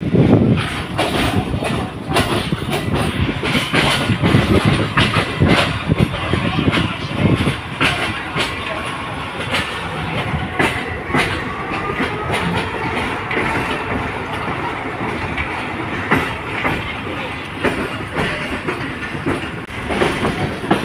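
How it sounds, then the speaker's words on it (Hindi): Hazara Express passenger train running from Rohri, heard from on board as a continuous rumble with rhythmic clickety-clack of wheels over rail joints, steady and loud throughout, with faint voices in the background. "अभी हजारा एक्सप्रेस डाउन तकरीबन 4 बजे रोहड़ी से चलेगी"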